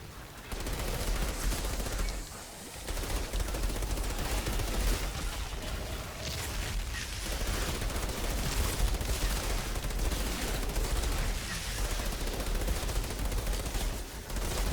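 Rapid, sustained gunfire in the Outriders video game while shooting large blue enemies, with dense bursts of shots continuing almost without a break and only faint speech.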